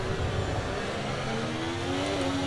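A Formula 1 race car engine in the F1 24 video game, a rising whine of revs climbing steadily as the car accelerates, loud and continuous with no voices.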